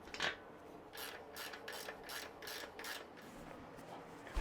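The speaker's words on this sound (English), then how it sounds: "Getting this on the wheel, torquing her down real good" A ratchet torquing down the wheel bolts on a Honda CRF250F trail bike, clicking in about seven quick, close strokes with short pauses between them, faint and alone.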